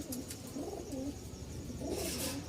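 A pair of Lal Sundori Giribaz pigeons from Rajshahi coo close by, their soft rolling calls repeating in short rhythmic bursts with no talk over them.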